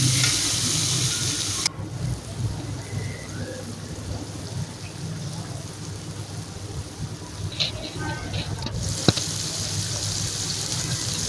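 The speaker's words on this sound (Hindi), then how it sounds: "इसको अच्छी तरह फ्राई कर लें।" Chicken and bitter gourd masala frying in a karahi gives a steady, close sizzle throughout, with a few brief clinks and stirring scrapes near the end and no talking.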